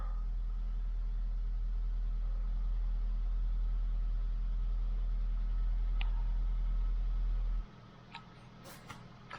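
A Toyota engine idling in a workshop, a steady low drone that cuts off abruptly near the end, leaving a few faint clicks and ticks.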